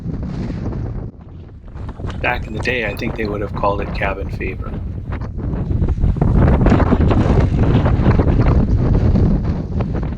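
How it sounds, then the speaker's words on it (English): A person talks briefly, then steady wind at an Arctic cabin buffets and roars across the microphone, growing louder and gustier toward the end. "The days outside have been windy and gloomy."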